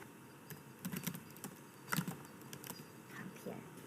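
Someone typing on a computer keyboard, quiet irregular clicks of individual keystrokes up close, with a few faint sounds of speech nearby.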